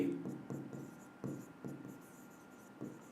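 Chalk or pen strokes writing out a velocity equation for a physics lesson on centre of mass and momentum conservation, a run of short scratchy taps and drags at close range, fairly quiet and uneven in rhythm.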